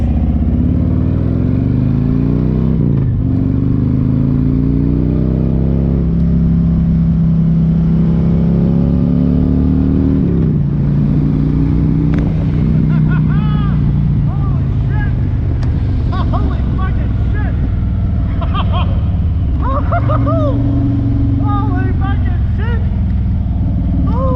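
A Harley-Davidson motorcycle with Stage 1 and 2 exhaust upgrades idles and revs with a loud, deep, bassy rumble that runs steadily throughout, rising in repeated throttle blips while people talk over it.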